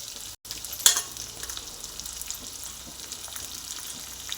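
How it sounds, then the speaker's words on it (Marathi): Green chillies and garlic frying in oil for a tempering: a steady close sizzle with one sharp spatter or clink near the start, otherwise even and uninterrupted, no talk. "त्या मिरच्या सगळा लसूण लाल होऊन द्यायचा"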